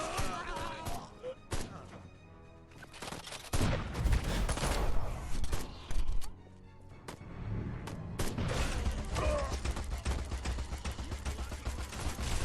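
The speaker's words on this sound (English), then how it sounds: "Robots fire very fast." Robots firing rapidly in the video game Destroy All Humans, loud bursts of dense gunfire and heavy thuds stacked close together, with brief lulls between volleys.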